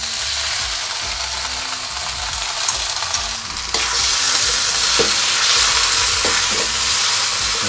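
Rice noodles stir-fried with sweet and sour sauce in a pan give a steady, loud sizzle with scraping stirs, growing busier partway through as the pan is worked.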